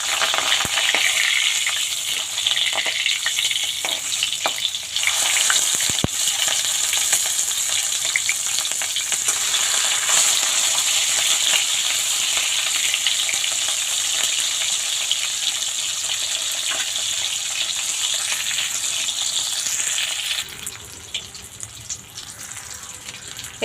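Food frying in hot oil over medium heat as the pieces are turned gives a loud, steady sizzle with crackling bursts, which quietens and thins out toward the end.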